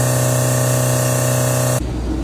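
A CNC mill cuts 2.5-inch square 6061 aluminium bar blanks into front brake caliper brackets, making a loud, steady whine rich in tones that stops abruptly near the end.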